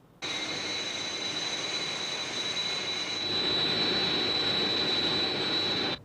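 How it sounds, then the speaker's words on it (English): An aircraft flying, heard as a steady, loud jet engine roar with a high whine that starts abruptly, holds and swells slightly, then cuts off near the end. "There's another aircraft dead ahead of us."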